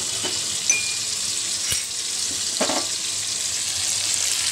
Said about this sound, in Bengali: এবার একটুখানি এটা ভালো করে আংশে নেব, মানে ভেজে নেব মশলাগুলো।